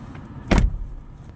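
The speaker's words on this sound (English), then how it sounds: "press the button again, turns on the car" A car with push-button start turning on: one short, muffled electronic thunk or chime, quiet and close, with low cabin hum before and after.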